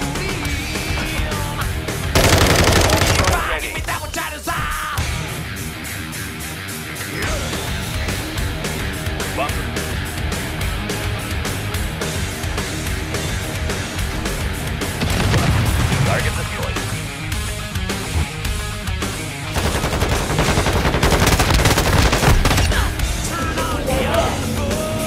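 Gunfire and explosive bursts in the shooter video game Modern Warfare II, with dense, loud battle noise running throughout and heavier blasts near the start and end, while a player talks over it.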